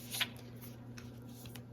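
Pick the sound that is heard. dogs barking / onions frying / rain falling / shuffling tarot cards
shuffling tarot cards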